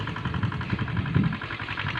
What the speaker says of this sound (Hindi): आप सबको सुनात हो इंजन चलत बा